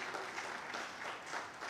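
Audience at a post-budget policy dialogue applauding the panel members: a short, full burst of many people clapping together, steady and fairly loud, with no voices.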